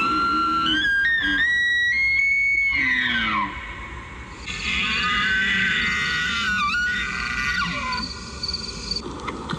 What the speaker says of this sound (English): This is an elk.